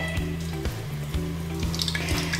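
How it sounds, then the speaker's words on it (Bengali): Chicken meatballs coated in bread crumbs fry in hot oil, giving a steady low sizzle with soft rhythmic bubbling pops, close and fairly quiet, with no talking. "গোল গোল করে তেলের মধ্যে ছেড়ে দিয়েছি, ব্রাউন কালার করে ভেজে নিতে হবে"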